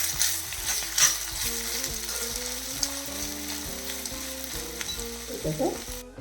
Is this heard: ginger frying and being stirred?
yes